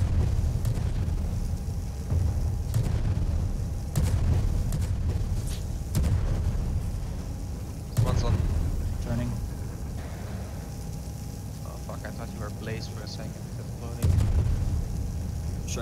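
Heavy cannon booms go off several times, spaced seconds apart, amid game effects and chatter, with voices talking over the action.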